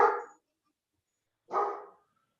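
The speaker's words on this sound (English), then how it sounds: "Can you guys hear me over the dog barking?" A dog barks twice, indoors and near, two sharp single barks about one and a half seconds apart with silence between them.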